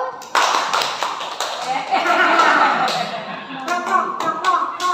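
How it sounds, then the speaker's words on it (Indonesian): A classroom group at a vocational school performs a rhythmic call-and-response clapping pattern, sharp unison claps in bursts mixed with voices talking over them. "Tepuk satu."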